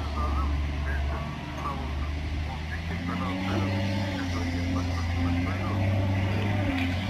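Diesel engine of a Caterpillar 950H wheel loader loading a truck, a steady low rumble that rises in pitch as the engine revs midway, close and continuous, with people talking over it.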